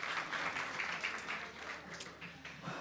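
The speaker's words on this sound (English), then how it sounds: "Let's give it a huge round of applause to both the teams." Faint crowd applause at a Get In The Ring Dhaka 2018 grand finale, many hands clapping in a soft, continuous patter from a distance.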